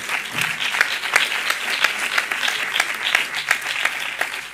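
An audience at an international education and flamenco congress gives dense, steady applause, with many hands clapping evenly at roughly constant loudness from start to finish.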